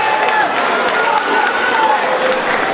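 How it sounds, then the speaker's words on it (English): A crowd cheers and claps at a charity boxing fight night after a close decision crowns a new champion, a dense continuous roar of applause with whistles cutting through, loud and close. "a round of applause for both boxers, ladies and gents"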